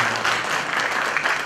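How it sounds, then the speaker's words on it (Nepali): Loud audience applause at a Nepali music album launch, a brief burst of dense, steady clapping. "जोरदार तालीले अझ बढी"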